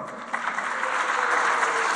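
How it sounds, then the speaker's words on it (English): Conference audience applauding a timekeeper at an education technology gathering, a steady wash of clapping from many hands that swells slightly and holds at moderate loudness for two seconds. "Round of applause for Laurie"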